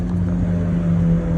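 Buick Skylark muscle car cruising past at a New Canaan, Connecticut car show, a loud steady low engine rumble close by, no talking.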